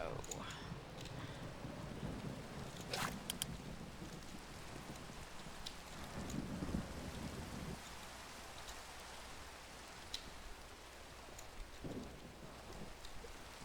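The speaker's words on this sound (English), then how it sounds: "okay, that is rain coming in." Steady rain pours in the video game Minecraft, a dense hiss with occasional rumbles of thunder and a few sharper crackles, continuous throughout and moderately quiet.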